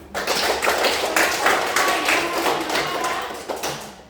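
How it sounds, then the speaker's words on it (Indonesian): Classroom clapping as students applaud a classmate during a lesson, a steady patter of many hands that swells and fades slightly over a few seconds. "Tepuk tangan"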